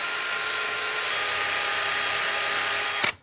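A handheld power drill fitted with a wire disc polishes a metal lock pick in a workshop, a steady high whine running for about three seconds before cutting off abruptly with a small knock.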